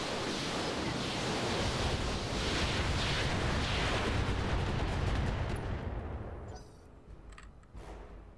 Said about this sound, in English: We're going to target the right torso and fire.